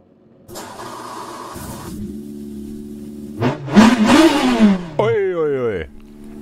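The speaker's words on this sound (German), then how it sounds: "Ich mache mal den Motor nochmal an." A BMW M3 E92 GTE engine in rFactor 2 cranks, catches and settles into a steady idle, then revs up loudly several times before a rising whine of acceleration.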